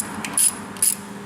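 A wrench loosens a plug during an engine and primary oil change on a Buell motorcycle, giving two short, close ratcheting clicks spaced about half a second apart over a low mechanical background.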